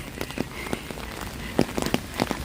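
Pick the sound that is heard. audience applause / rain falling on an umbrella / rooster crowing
rain falling on an umbrella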